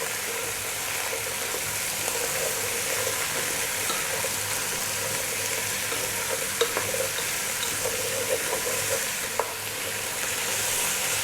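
Pumpkin pieces fry in a pan over fairly high heat with a steady, loud sizzle and occasional clicks from stirring, with no voices.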